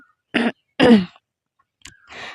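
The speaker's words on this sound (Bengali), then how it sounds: "প্রচুর পরিমাণে আমার কাশি হচ্ছে এখন" Two harsh coughs close together, then a short pause and a couple of rougher throat-clearing bursts, loud and near with no talking.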